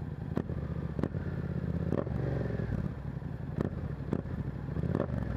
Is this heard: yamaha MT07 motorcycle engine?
yes